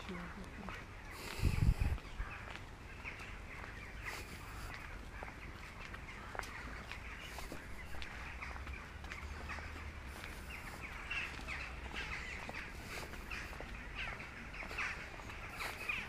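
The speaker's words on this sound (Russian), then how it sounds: "Ну Вороны поселились, да?" Crows caw at a distance in an open outdoor setting, scattered calls over faint background noise, with a short thump or rustle early on.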